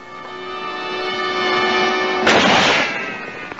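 In a Bonanza western scene, a held musical tone fades as a single sharp, loud rifle shot bursts out near the end and rings briefly.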